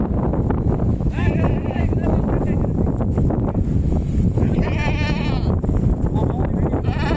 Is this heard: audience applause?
no